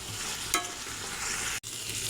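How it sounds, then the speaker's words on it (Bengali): Broad bean seeds and potatoes fry with spices in a pan, giving a steady close sizzle with a scrape of stirring and a short clatter. "সিম আর আলু মশলার সঙ্গে কষানো হয়ে গেছে"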